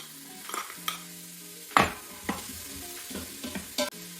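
Hot oil sizzles and crackles with a sharp burst of frying as onions drop in with carrots and celery, followed by scattered clinks and scraping stirs, no voices.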